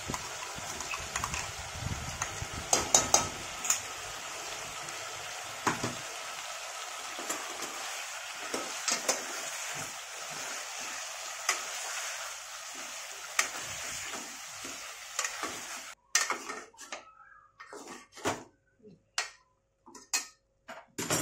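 Ground masala paste goes into a pot of mutton curry and gets stirred, with a steady sizzling hiss and scattered clicks and scrapes of a spoon against the pot, which turn into sharper separate taps toward the end.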